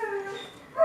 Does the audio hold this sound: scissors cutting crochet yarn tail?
no